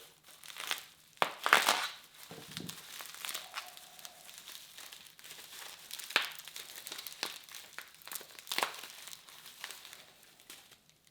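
Crinkling and tearing of packaging material as a mail-day package is cut open with a knife, in brief irregular bursts of crumpling and slicing at close range, with no talk.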